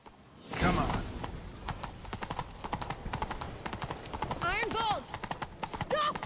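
Hooves of a galloping horse in The Witcher 3: Wild Hunt clatter in a fast, steady rhythm, loud and close, with a whinny and short bursts of game dialogue over the top.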